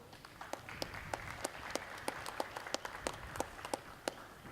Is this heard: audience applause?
yes